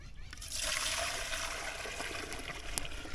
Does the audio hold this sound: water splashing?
yes